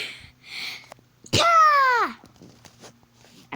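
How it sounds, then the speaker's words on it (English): One person sneezes once loudly, a short voiced burst with a falling pitch, set between quieter background sounds. "I'm trying to sneeze attractively, so if I sound weird, don't judge me."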